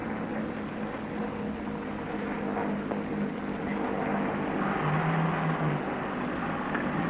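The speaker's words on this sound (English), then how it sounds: "planes en route to and from all the far places of the earth fly over the ancient road" Airplanes passing over the ancient Appian Way near Ciampino Airport outside Rome, a steady distant engine drone holding at an even level for the whole stretch, with no voices.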